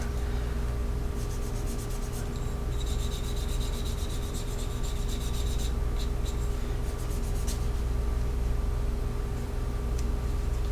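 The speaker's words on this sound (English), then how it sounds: "This stuff doesn't burnish very well." Burnishing the edge of a leather card holder, a steady rubbing and scraping with short bursts of faster friction, close and fairly loud over a constant low hum, with no talking.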